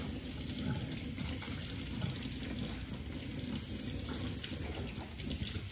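Cold tap water runs into a sink or tub for a baby's bath, a soft, steady rushing stream that continues unbroken.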